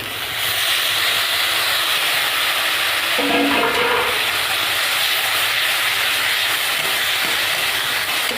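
Steady, loud hissing sizzle of tomatoes frying in hot oil for a fish curry, continuous throughout with a brief burst of clatter partway through.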